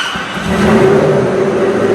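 A Ford GT engine catches and settles into a loud, steady, throaty idle close by, rising briefly as it fires up.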